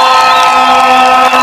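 A rally crowd in Kangundo roars in a dense, loud, sustained burst of cheering and shouting, with a few raised voices standing out above the mass throughout the brief moment.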